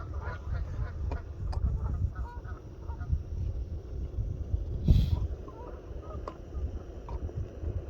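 Geese and ducks honk and quack repeatedly on open water near kayaks, a busy, moderately close chorus of squawks with one louder call standing out.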